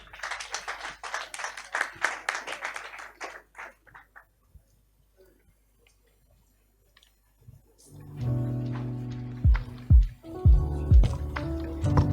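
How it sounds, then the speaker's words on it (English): Scattered audience applause at a pitch day event: a loose patter of claps for the first few seconds that thins out and fades to near silence, followed by other noise. "A round of applause for them."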